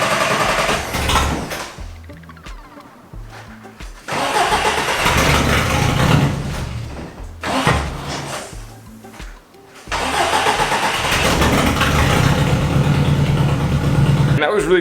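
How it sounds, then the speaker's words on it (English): A car's starter motor spins without engaging the flywheel, whirring in three long bursts with short pauses between, close and loud, with someone talking over it. "The starter just kept going and kept spinning, not engaging the flywheel"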